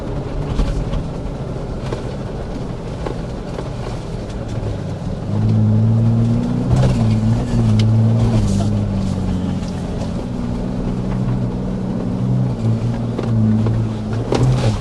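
A Ford Bronco Raptor climbs off-road hills, its engine a low, steady rumble that swells into a louder, strained drone as it powers up the slope, with faint talk underneath.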